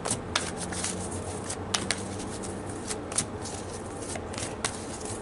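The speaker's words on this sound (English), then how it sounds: "So let's pull a few romance angel cards." Romance angel oracle cards are shuffled by hand in a quiet room, giving close soft riffling with a few sharper snaps and taps throughout.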